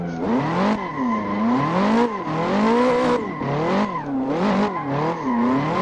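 Car tires squeal through figure eights in the Assetto Corsa racing game, a loud continuous wavering screech rising and falling with each turn over a steady engine hum, no talk.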